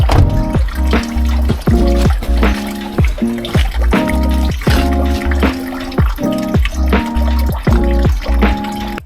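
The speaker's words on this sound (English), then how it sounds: "I then waited for the last drops of old coolant and deionized water to drain out." Old coolant drips and splashes repeatedly from an Audi A4 Cabriolet 2.4 V6 engine in an uneven rhythm, close by, with gurgling trickles between the drops.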